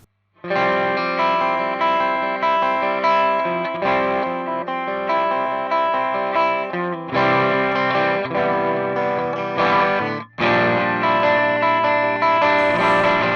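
An electric guitar through an AMT Vt2 preamp on a low-gain setting plays sustained chords with a light, slightly gritty overdrive and chorus-like shimmer, with brief pauses between phrases.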